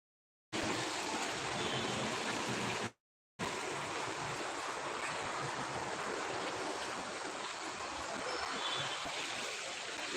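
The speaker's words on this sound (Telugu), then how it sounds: "ఇప్పుడు ఎంత వర్షం అంటే అంత వర్షం అసలు ఆ వాటర్ చూడండి బయట నుంచి చెల్లగారిపోతుంది" Heavy, steady rush of water pouring outside, a dense continuous roar broken by a brief silent gap.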